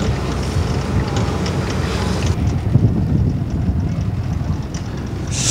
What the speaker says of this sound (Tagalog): Kala ko malakas yung alon kasi medyo malakas-lakas yung hangin eh.